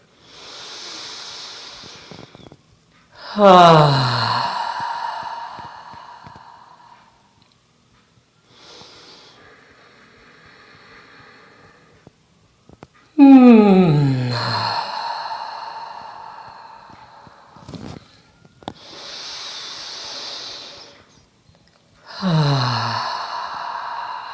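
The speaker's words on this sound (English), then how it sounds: "3 cleansing breaths, in through the nose, out through the mouth, inhaling generously" Three deep cleansing breaths during a yoga class, each a soft hissing inhale through the nose followed by a long, louder sighing exhale through the mouth, close and clear, with quiet pauses between them and no talking.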